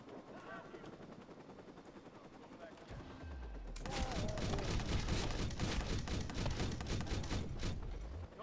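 Gunshots in Watch Dogs, a quieter stretch of scattered in-game sounds and voices giving way to loud, rapid sustained automatic fire with heavy low thumps, continuing close to the end.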